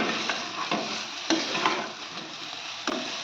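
Prawns stirred and fried in spice paste in a pan, a steady close sizzle broken by a few sharp scraping strokes of the spatula, with no voices.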